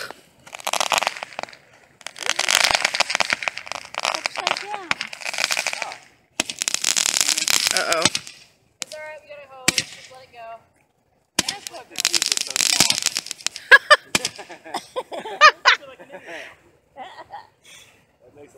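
Backyard family fireworks going off, a string of sharp crackling bursts and pops in short clusters, fairly close, with people's voices mixed in between the bangs.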